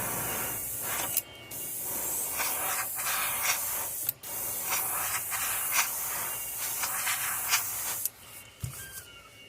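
An airbrush sprays pearl white paint onto a golden trout fishing lure, a steady close hiss running almost continuously, broken by a few short pauses and brief bursts as the paint is laid over the lure's back.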